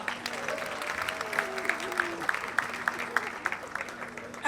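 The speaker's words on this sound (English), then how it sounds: "Please a round of applause from our guy." Audience at a children's awards ceremony claps in scattered, moderate applause while a voice carries on over it, with some crowd murmur beneath.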